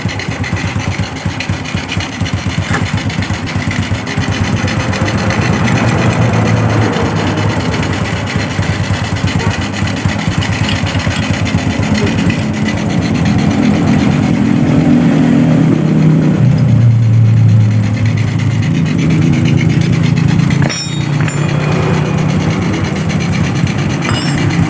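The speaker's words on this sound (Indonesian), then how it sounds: "kondisi motor ini sudah normal, sudah menyala dengan normal" A Honda Revo motorcycle engine runs continuously close by with a busy mechanical chatter, its pitch rising and falling as it is revved several times over about twenty-five seconds.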